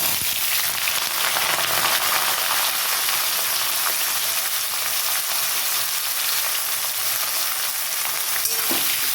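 Kochur loti (taro stolons) with green chillies sizzle in a pan, a dense, steady hiss of frying oil with faint stirring clatter throughout, loud and close with no talking.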